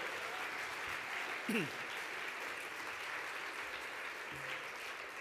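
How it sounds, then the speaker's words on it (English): An awards-ceremony audience applauds the Station of the Year winner, Whipps Cross Hospital Radio, at the 2013 National Hospital Radio Awards; steady, fairly distant clapping with a brief louder moment near the start. "A round of applause, please."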